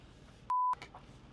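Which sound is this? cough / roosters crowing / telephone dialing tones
telephone dialing tones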